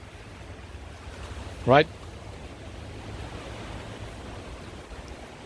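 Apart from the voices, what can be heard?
gusty wind blowing outdoors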